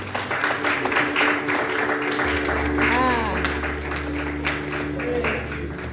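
A church congregation applauding and acclaiming during a worship service, a dense, steady wash of clapping and raised voices over a low hum, with a singing or shouting voice rising briefly in the middle.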